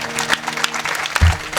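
Men in a Marathi kirtan audience clap for the women singers, a short burst of applause about a second and a half long that swells near the end over a steady low hum of the hall.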